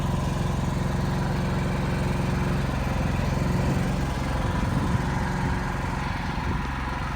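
A portable generator runs steadily outdoors in cold, snowy conditions, its engine droning at a constant, fairly loud level with an even hum and no speech over it.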